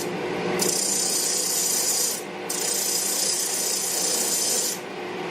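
Wood being sanded by hand with sandpaper, two long steady rasping strokes close by, separated by a short pause, with no talking.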